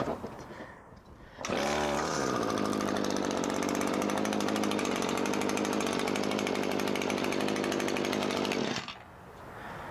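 A 2016 Echo GT225L string trimmer engine roars to life close by, holding a steady, buzzing high-revving whine for several seconds before dropping away to quiet.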